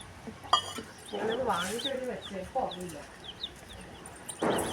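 Dyed chicks peeping in a series of short, rising chirps close by, with louder clucking of adult chickens mixed in and a voice speaking briefly.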